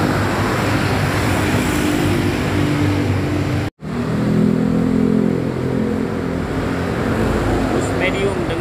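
A medium-size bus pulls away from a bus terminal, its engine rumbling and revving steadily and loudly, with a brief dropout midway and voices talking nearby.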